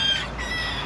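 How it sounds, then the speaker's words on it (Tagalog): A bantam hen gives a brief, close clucking call against a steady background hum, heard alone with no talk. "Bantam hen yan eh."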